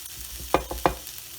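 Bacon and peppers cooking in a pan for fajitas, with a low frying sizzle and a few brief stirring or scraping knocks close by.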